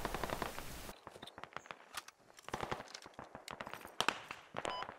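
Enemy gunfire in the tactical shooter game Squad, rapid bursts of close, sharp shots cracking in irregular clusters throughout, with a loud opening burst and quieter scattered shots after.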